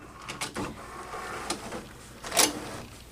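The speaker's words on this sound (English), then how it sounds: "And it sucks the mat in." A Cricut Imagine cutting machine draws the cutting mat inside with a few soft mechanical whirs and clunks, then a short, louder motor burst near the end, close by in a quiet room.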